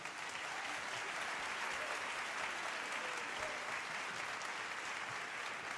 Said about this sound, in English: Let's give them a round of applause to our Canta Agora.